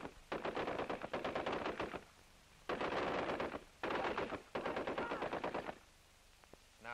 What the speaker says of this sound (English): This weapon, the light machine gun, is one that every man in an Indian regiment is taught to handle.